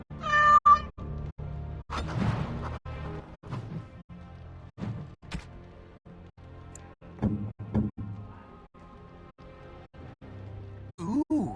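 A cat meows in a fantasy role-playing game, Dragon Age: Origins Awakening, giving a short high mew at the start and another at the end, with game clicks, thumps and background music in between.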